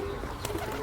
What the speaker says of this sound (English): You don't want pigeons. Vermin.